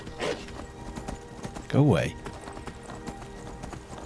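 Horses in Skyrim, a video game, let out a loud whinnying neigh near the middle, with soft clip-clop of hooves around it and people talking over the scene.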